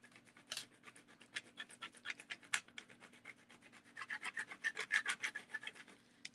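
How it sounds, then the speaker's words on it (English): Extra large Cricut scraper burnishing adhesive foil on a card, a quiet, close series of rapid rubbing and scraping strokes that quicken and grow louder toward the end. "Now I also am going to need something to burnish it with. So I'm using my scraper, my extra large scraper from Cricut."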